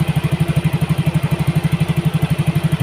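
A Yamaha Mio GT scooter engine with a replaced injector and unbalanced fuel mixture idles close by, its steady rhythmic chugging pulsing evenly and loudly with no talking.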